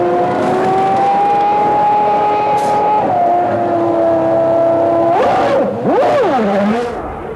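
1994 Formula One race cars scream past at high revs, one engine holding a sustained whine before two more cars sweep by in quick succession with sharp rising and falling pitch, loud and close.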